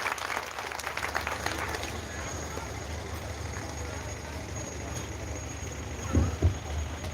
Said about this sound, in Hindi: तालियों से स्वागत का अभिनंदन करें।